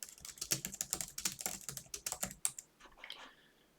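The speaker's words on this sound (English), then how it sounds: "So if we just type some stuff," Typing on a computer keyboard: a quick, close run of crisp key clicks in an uneven rhythm, briefly pausing near the end and then resuming more softly.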